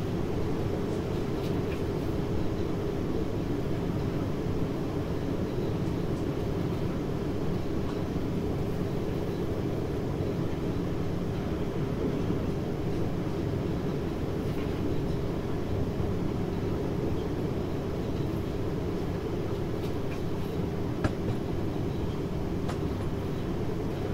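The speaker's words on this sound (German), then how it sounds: "lassen wir uns hier schön geschmeidig und sanft in den Bahnhof einrollen." A train in the Train Sim World 2 simulator rolls smoothly into a station on the Düren route, giving a steady low rumble and hum that stays even throughout with no voices.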